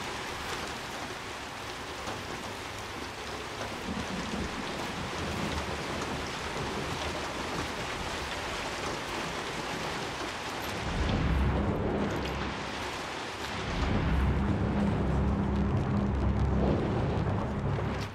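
In the video game Hunt: Showdown, heavy rain hisses steadily throughout, and deep rolling thunder swells in around the middle and again near the end.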